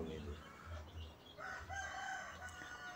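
Free-range village chickens cluck and a rooster calls in a farm yard, faint and somewhat distant, with soft low murmurs around them.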